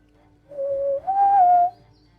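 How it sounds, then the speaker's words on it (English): A clear, close two-note whistle resembling a bird call, a steady tone rising to a slightly higher held pitch, about a second and a quarter long, alone against quiet background. "you do eventually hear off to the right of you a bit of a whistle"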